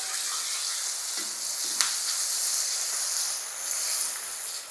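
Onion and tomato fry in a pan with a continuous bright sizzle up close, broken by a couple of faint stirring clinks.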